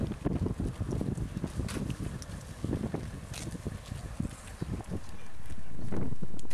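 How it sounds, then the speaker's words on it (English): Cold wind buffets the microphone at the geyser field of Iceland's Golden Circle, steady rough gusting with faint footsteps and thumps, swelling louder toward the end. "With the cold wind blowing on my face"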